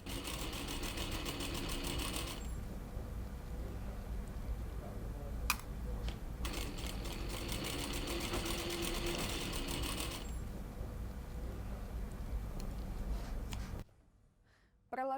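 A sewing machine runs continuously while stitching the bottom of a sleeve with a slit, a fast mechanical whir that stops briefly mid-way, resumes, then cuts out near the end, where a voice briefly speaks.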